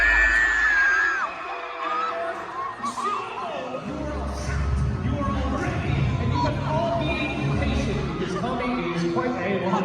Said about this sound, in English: And there was a lot more screaming.